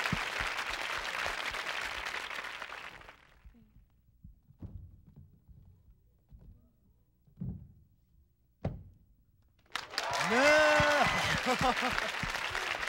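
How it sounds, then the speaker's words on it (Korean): Studio audience applause at a 1994 Korean Saturday-night music TV show, a loud broadband burst of clapping over the opening seconds that fades out, followed by a few soft thumps and then a voice speaking. "여러분 박수 주시죠."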